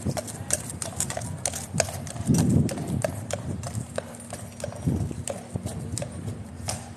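Horses' hooves clip-clop on hard ground at Horse Guards in London during the changing of the guard, a steady stream of close, crisp strikes with outdoor crowd murmur beneath.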